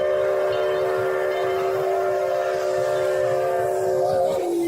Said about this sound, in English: They have a special whistle on. Yeah, it does sound different. A little lower.